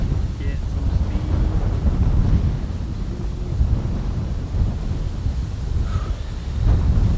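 Heavy wind buffets and rumbles across the microphone on an open golf course, steady and loud throughout with gusty surges.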